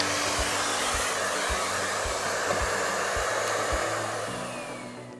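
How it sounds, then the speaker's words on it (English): Miele Complete C3 canister vacuum cleaner running at maximum power with its floor head lifted, a loud, steady whooshing roar with a low hum and faint rhythmic thumps beneath, heard alone. "You can also check it by running the vacuum cleaner at maximum power"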